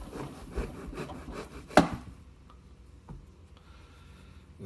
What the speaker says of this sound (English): we're going to cut off the top of it